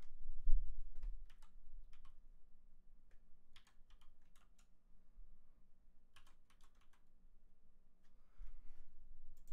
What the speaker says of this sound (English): I'm typing with one hand